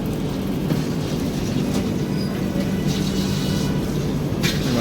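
An Indian Railways platform at a station on the Puri–Howrah route, with a steady, fairly loud rumble of rail traffic and station noise continuing without a break and no speech heard.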